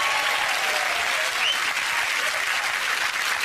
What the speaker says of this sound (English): Give them all a cheer.